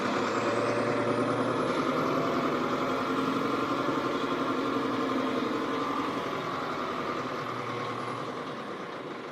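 Four-wheel-drive farm vehicle climbing a silage clamp, its engine a steady close labouring rumble that holds for several seconds and then gradually fades toward the end.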